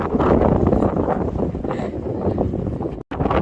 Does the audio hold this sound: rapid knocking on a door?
no